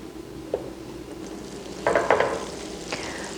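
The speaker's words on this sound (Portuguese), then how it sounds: "Manteiga derreteu." Butter melting in a pan before apples go in for a traditional apple pie filling, giving a soft steady sizzle with a few brief clinks and scrapes of a utensil against the pan.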